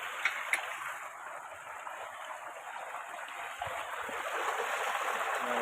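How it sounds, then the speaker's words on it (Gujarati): Water rushes steadily from an opened valve, a continuous broadband flow like a running stream that holds at a constant level and swells slightly toward the end, with no talk over it. "વાલ ખોલ નાખ્યો છે. પાણી"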